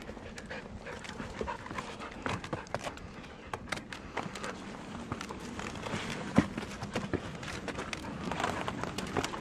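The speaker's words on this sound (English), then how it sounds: "They won't let the dogs run up behind them." Dogs on a trail at a wilderness desert camp near an alpine lake, heard up close as fast padding paws mixed with heavy, steady panting, with brushy footfalls and scrapes throughout and no talk.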